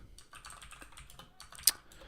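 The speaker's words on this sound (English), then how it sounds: "Every time I press a keyboard, it actually changes the screen." Fingers type on a computer keyboard close up, a quick irregular patter of soft key clicks with one sharper, louder tap near the end.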